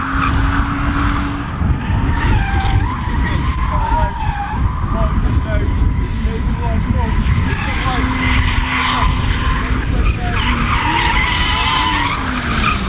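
A drift car spins on a drift track, its tires skidding and squealing continuously at high volume. Engine noise runs throughout, and people talk excitedly over it.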